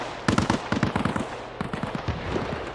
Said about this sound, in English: But immediately, gunshots, and returning fire.